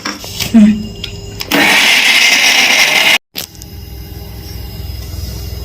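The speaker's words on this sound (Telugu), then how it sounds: "ఇప్పుడు మనం దీన్ని మిక్సీలో గ్రైండ్ చేసుకోవాలి" A mixer grinder grinding jaggery whirs loudly for a couple of seconds after a short click, stops abruptly, then a low motor-like hum lingers.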